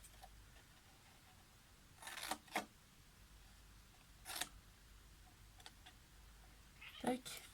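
A faint Maine Coon cat meow in a quiet room, alongside a few soft sharp snipping sounds during paper scrapbooking work.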